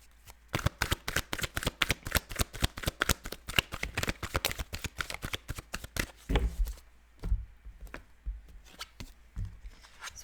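A deck of tarot cards is shuffled in a long run of rapid, crisp riffling snaps, close and clear, then slows into a few scattered slaps and soft handling sounds as cards are set down.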